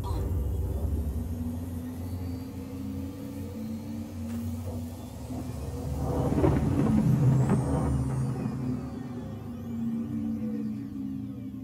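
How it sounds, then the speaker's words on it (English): A spacecraft's quantum drive in the Star Citizen video game runs as a steady low engine rumble, swelling louder for a few seconds midway before settling back, with no talk over it. "Quantum drive is now on."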